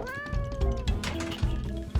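A pet cat meows in a series of clear, fairly close calls, with background household noise and scattered thumps around it.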